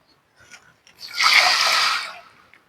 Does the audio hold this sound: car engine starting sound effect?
no